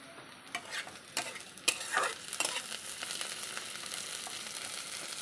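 Raisins drop into fried onions in a pan, giving a soft sizzle with a few scraping stirs and light taps early on, then a steady low frying hiss.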